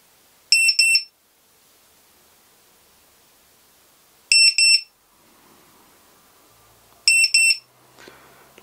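A ViFly Finder 2 drone finder beeper sounds three short, shrill bursts of rapid high beeps spaced a few seconds apart, loud against quiet background.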